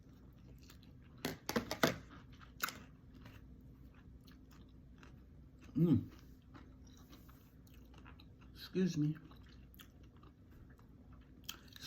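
Person chewing food: a few crunchy bites near the start, then two short bursts of chewing spaced several seconds apart, close and fairly quiet, with a brief spoken aside.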